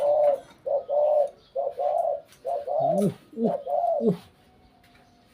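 Repeated deep, rounded dove coos close by in a steady rhythmic series, with a faint voice briefly mixed in near the end.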